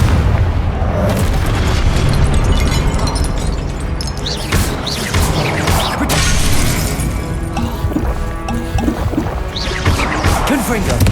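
Blasting spell explosions from Confringo in Hogwarts Legacy, loud booming bursts repeating through a dense mix of game effects and music, with spoken spell calls in the background.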